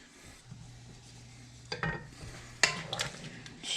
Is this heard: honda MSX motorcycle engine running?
no